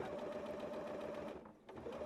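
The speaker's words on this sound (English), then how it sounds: "sew a 1/2 inch seam allowance all the way around the circumference of the bib" A sewing machine stitches a seam around the edge of a patchwork baby bib, running as a steady, close, even whir of rapid needle strokes. It slows and briefly dips near the end before picking back up.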